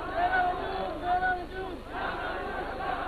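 A crowd at a political rally in Sindh chants and shouts together, a loud rolling mass of voices with rising swells and overlapping calls, steady and somewhat distant.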